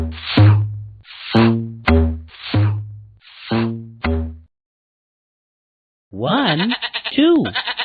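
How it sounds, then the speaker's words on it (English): Sheep bleating in a children's counting programme: about six short, close bleats in a steady row, a pause, then a longer wavering bleat, with no talk over them. "Sheep."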